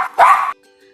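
A single sharp dog bark rings out close and loud, followed by near silence.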